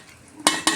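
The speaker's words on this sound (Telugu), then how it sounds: "అడగంటకుండా మంచిగా కలుపుకోవాలి." Mutton paya is stirred in a pot, two short loud scraping swishes of a spoon through the thick, bubbling mixture, close and without voices.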